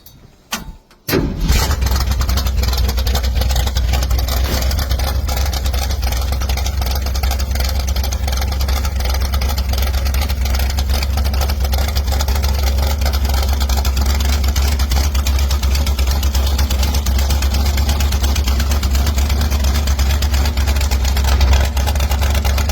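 A 1960 Ford Falcon gasser with a 351 Windsor V8 fires up after a brief crank and settles into a loud, steady, rumbling idle that continues unbroken.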